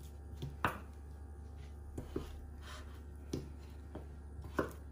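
A knife chops a potato into small cubes on a board for a chef's salad, with several sharp, sparse taps spaced irregularly over a steady low hum, close and fairly quiet.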